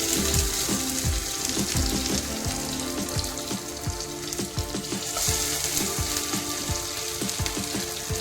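Pieces of purple yam fry in hot oil, giving a dense, continuous sizzle with fine crackles and popping bursts, close and steady, with no talk.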